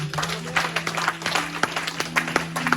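A church congregation applauds and cheers in praise of God, dense clapping filling a reverberant hall with a steady held organ or keyboard tone underneath.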